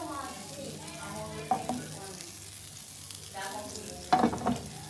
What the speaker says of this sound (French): Je vais faire fondre le beurre